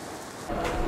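Scattered light rain falls over the city of Amravati, a soft steady patter that grows a little louder and denser partway through, with no voices.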